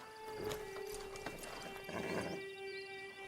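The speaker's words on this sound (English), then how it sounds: "Get on the horse there." Slow, uneven clip-clop of horse hooves close by, with a faint whinny-like tone and steady background hum; no talking.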